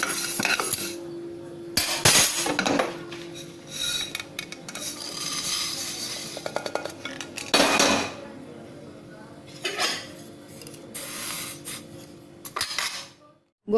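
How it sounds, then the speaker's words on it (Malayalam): Washed cracked wheat is roasted and stirred in a heavy pan, the spoon scraping and clinking against the metal in irregular bursts with quieter rubbing between strokes. "ഇതുപോലെ ഇങ്ങനെ വറുത്തെടുത്ത് കഴിയുമ്പോൾ ഗോതമ്പ് മൊരിഞ്ഞ് കിട്ടും"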